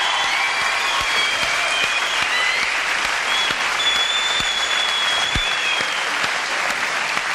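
A French television studio audience claps steadily on cue, a dense, sustained wash of applause that holds at an even level throughout, with faint voices briefly audible underneath.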